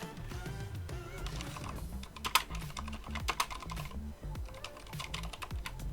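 Someone types text on a computer keyboard while editing captions in video software, producing close, steady clicking keystrokes with a few louder taps and no talking.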